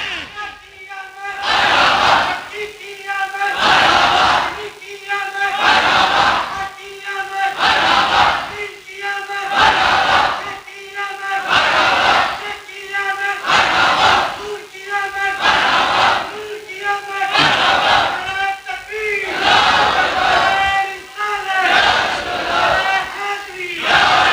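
A large crowd at a Rabi ul Awal religious gathering roars back in rhythmic, repeated chanted responses to a takbir slogan call, loud bursts recurring every couple of seconds alongside an amplified leading voice.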